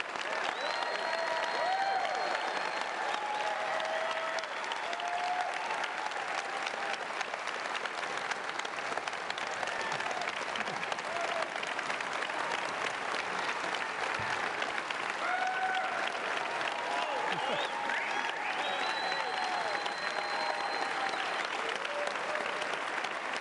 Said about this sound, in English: Standing ovation from the crowd here in Tyler.